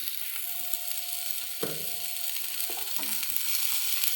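Boiled potatoes tumble into a hot pan and start frying, a steady close sizzle with a sharp burst as they land and a few stirring scrapes after, no voices.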